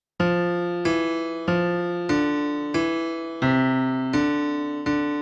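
The Dies Irae chant theme is played as music, eight sustained tones struck one after another in an even, slow rhythm, each ringing clearly on its own with no talking.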